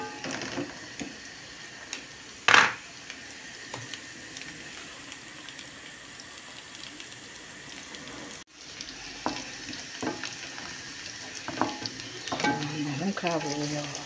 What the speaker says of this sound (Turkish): Soğanlarım kavruluyor.